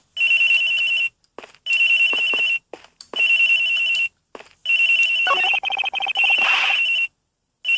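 A cell phone rings in the video game Ace Attorney Investigations, in repeated electronic bursts with short pauses between them, loud and close, with a warbling trill toward the end.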